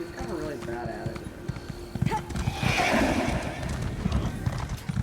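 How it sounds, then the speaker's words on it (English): A horse in the video game Elder Scrolls Online whinnies and its hooves clip-clop in a steady trotting rhythm, close and clear, while someone talks over the sounds. "Why is my horse so slow? Giddy up, horsey."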